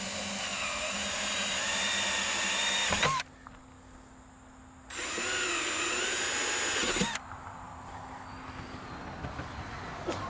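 A power drill bores an eighth-inch hole for a Nutron wing mount on a Ford Focus ST, two loud sustained bursts of about three and two seconds with a quiet pause between, no talking.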